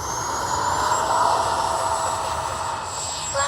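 A Freewing 80mm F-22 Raptor RC jet on a high-voltage 5300 SMC pack, flaps set for takeoff, gives a loud, steady ducted-fan whine that holds near and constant throughout.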